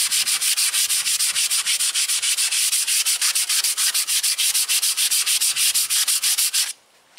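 Fast, rhythmic hand sanding with fine sandpaper on a trailer body: close, even back-and-forth rasping strokes that continue steadily without talk before stopping abruptly.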